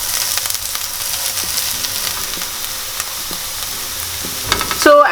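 Onions browning in a pan of hot oil hiss and sizzle steadily and fairly loudly, with a brief clatter of utensil against pan at the very end.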